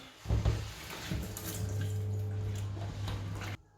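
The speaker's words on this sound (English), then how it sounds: "The beans are soaked, so we are going to wash it again." Soaked beans being washed by hand in water, with sloshing and splashing and a steady low running hum, close and alone until it cuts off near the end.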